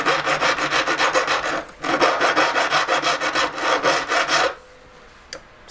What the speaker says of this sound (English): This file.